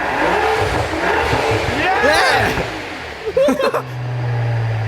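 A rebuilt Rolls-Royce V12 engine revs loudly through a new exhaust, rising and falling, then settles into a steady low idle, with people talking excitedly over it.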